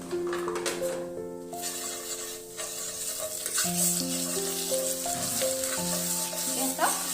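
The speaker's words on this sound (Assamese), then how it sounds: "এতিয়া ইয়াত মই দিছোঁ এচামুচ হালধি আৰু এচামুচ কাশ্মীৰ ৰেড চিলি পাউডাৰ এইখিনি দি ভালদৰে লৰাই দিম" Turmeric and Kashmiri red chili powder sizzle and fry in hot oil while being stirred in a pan, a steady close sizzle throughout with background music.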